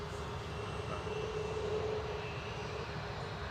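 A British Airways Airbus A320 departing Manchester for London Heathrow, a faint, steady distant jet rumble with a thin whine layered on top, holding even for a few seconds.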